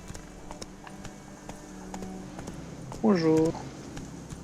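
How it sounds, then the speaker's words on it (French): Horse hooves clip-clop at a steady trot in the video game The Witcher III, faint and continuous beneath a man's chatter, with a brief louder spoken word near the end. "Le cheval, le cheval, le cheval,"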